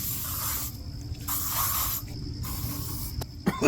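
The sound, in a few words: bug spray being sprayed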